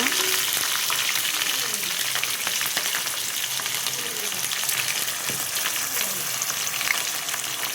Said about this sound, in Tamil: நல்லா வெங்காயம் ஃப்ரை ஆகணும், ப்ரௌன் கலரில் வர வரைக்கும் நல்லா ஃப்ரை பண்ணிக்கோங்க